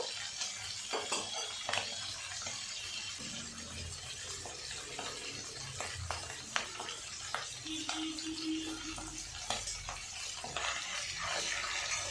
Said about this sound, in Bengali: মাথাগুলো ভালো করে ভেজে নেবো